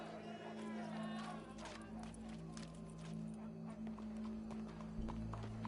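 Hooves clip-clop in a steady rhythm over a low, constant hum, with a horse snorting and faint crowd noise behind, in the video game Red Dead Redemption 2.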